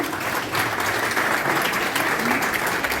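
Attendees at a general assembly meeting applaud together to approve a motion instead of voting, a continuous full round of clapping that swells slightly after the first half second and holds steady.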